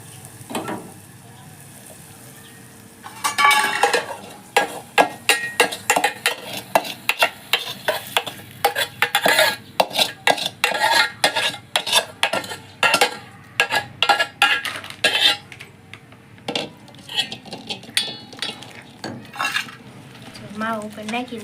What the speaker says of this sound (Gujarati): માવો ઉપર નાખીને તરત જ આપણે આમ હલાવી નાખવાનું, ભેગું કરી નાખવાનું